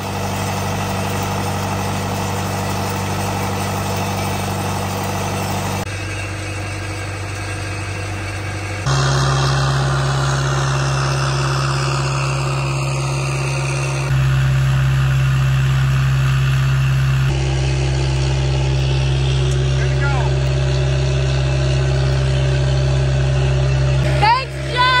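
A combine harvester engine idles in a farm yard, a steady low mechanical hum that continues through several abrupt cuts, rising slightly louder in the later stretches.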